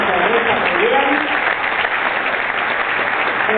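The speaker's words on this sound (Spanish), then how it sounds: "Lo recibimos con un fuerte aplauso" A seated audience at a Federación Patronal Seguros event breaks into dense, sustained clapping to welcome a speaker, a loud, even wash of applause filling the whole moment.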